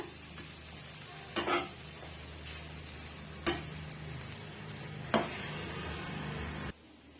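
Leftover chapati pieces being stirred into masala in a pan for street-style masala poori, with a steady low sizzle and a few sharp scraping knocks of the spatula, close and alone.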